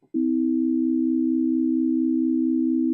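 A major third in just intonation sounds as a smooth, sustained electronic tone. It holds at an even level for about three seconds.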